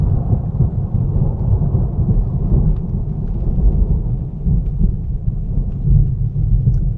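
Heavy rain pours down under a deep, continuous rumble of thunder, a loud, dense roar with no voices.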